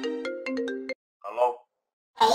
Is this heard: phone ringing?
yes